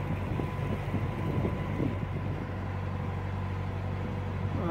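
A steady low rumble comes from a narrowboat on the canal, with distant motorway traffic cutting across the landscape and some wind buffeting, unbroken for the whole stretch with no one talking.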